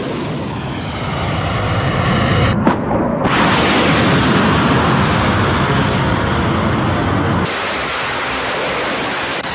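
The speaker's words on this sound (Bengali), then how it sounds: "ইরানকে লক্ষ্য করে যুদ্ধ জাহাজ থেকে পরপর টোমাহক মিসাইল ছুড়ল আমেরিকা" Tomahawk missiles launched in succession from a US warship roar as a loud, sustained broadband rush, with a brief dip and a sharp crack before the blast resumes and later changes tone.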